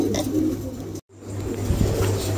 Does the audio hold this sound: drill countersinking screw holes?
no